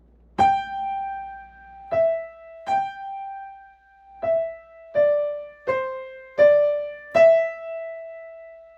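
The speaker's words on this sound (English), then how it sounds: "Do you hear how much easier it is to listen to music with phrasing?" A short piano melody of the piece Cuckoo, single notes played with phrasing, some louder and some softer so the line rises and falls, played alone and clearly.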